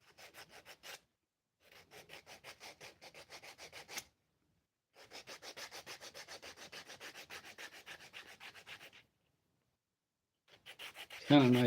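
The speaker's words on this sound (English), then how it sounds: "Kind of nice to sand something so it's baby soft." A small wooden acorn is sanded smooth by hand. Close, quiet, rhythmic rasping strokes come in several runs separated by short pauses, with no other sound.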